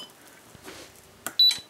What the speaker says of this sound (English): When I power it up, it should beep.